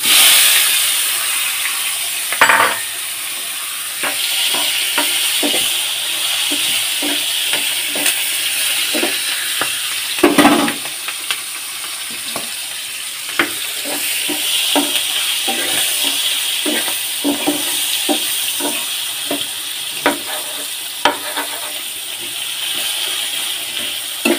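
Onions hitting hot oil give a steady, loud hiss of frying, with scattered clicks and knocks from a utensil against the pan throughout, and no talking.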